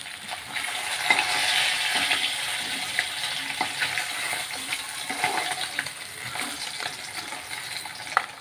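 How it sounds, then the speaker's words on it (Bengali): Fish pieces fry in hot oil in a pan, a steady bright sizzle with scattered pops and spatters, plus occasional clinks and stirring, fairly close and unaccompanied by speech. "মাছের তেল ছিটে দিয়ে চোখে লাগছে।"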